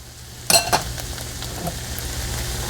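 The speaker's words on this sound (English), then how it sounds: "I'll go ahead and stir that in" Drained pinto beans are stirred into a cowboy casserole in a pan: a spoon clanks sharply against the pan twice, then soft scraping and a low steady sizzle continue close by with no talking.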